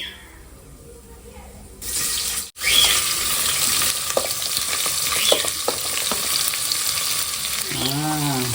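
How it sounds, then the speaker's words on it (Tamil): Onions sautéing in a pan for home-cooked biryani: a continuous frying sizzle with scraping stir strokes, after a brief quieter start, with a faint voice near the end. "வெங்காயம் போட்டுக்கலாம் நல்லா வதக்கு நல்லா வதங்கலாம்"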